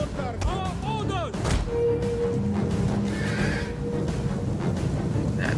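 Cavalry horses neigh and whinny during a battle in the video game Total War: Rome II, with repeated loud whinnies near the start over dense battle noise, thuds and distant gunfire-like booms, with voices calling out.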